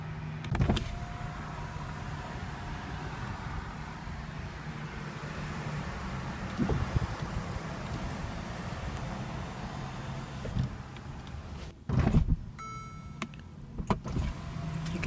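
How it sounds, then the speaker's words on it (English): The retractable hardtop of a Mercedes-Benz SL550 roadster folds open, giving a steady electric motor whine with soft mechanical hums and a few clicks and clunks near the end. "You can transform your SL from closed couped to open Roadster in about 16 seconds"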